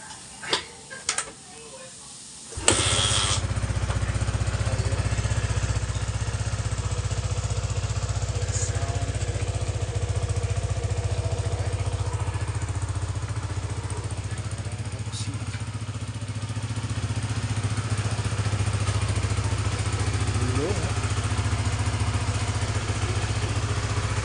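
A six-year-old Honda RS 150 motorcycle engine starts after a few light knocks, catching with a sharp burst and then idling steadily, close and loud, for the rest of the clip.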